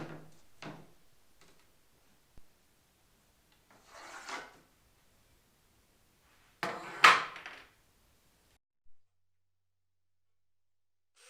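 Hand-sanding wooden table legs made from 2x4s to remove dried wood glue: a few short, scattered rasping scrapes separated by silence, with one louder burst near the middle, close and quiet overall, no talking.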